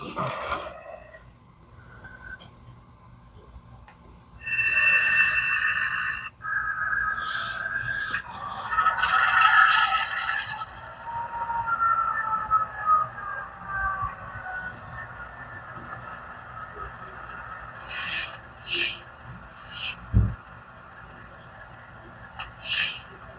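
A Bachmann Plus Erie Lackawanna F7A model diesel locomotive's sound decoder, throttle opened: a thin, tonal engine drone rises and holds, broken by several louder horn-like blasts from the small speaker.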